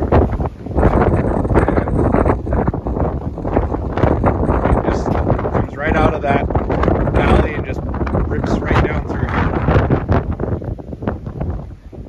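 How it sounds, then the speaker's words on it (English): Strong northeast wind gusts batter the microphone on a snowy hobby farm in below-zero winter weather, with gusts of 60-plus mph. The buffeting roar is loud and continuous, with a person talking through it. "the wind comes from the northeast here"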